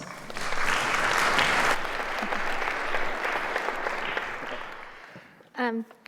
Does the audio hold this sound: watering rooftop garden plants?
no